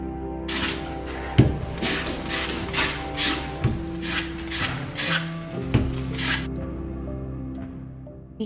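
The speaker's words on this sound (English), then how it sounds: "I used 100 grit sandpaper to lightly distress and age them." Wood being sanded by hand with 100 grit sandpaper to distress and age it, a steady run of rasping rubbing strokes in a regular back-and-forth rhythm, close and fairly loud, with no talk.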